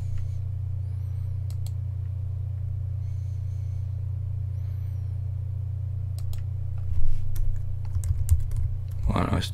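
Computer keyboard typing while reviewing Kubuntu 13.04 in a virtual machine: a few sparse, soft key clicks over a steady low electrical hum, then a brief burst of faster clicking near the end.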